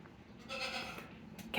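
A sheep bleats faintly in the background of a barn, a short wavering call, followed by a brief sharper noise at the end.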